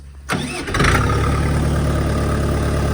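A DTZ 40 small tractor engine catches after a brief rumble and settles into a loud, steady, close-up running note with a strong low throb. There is no talk.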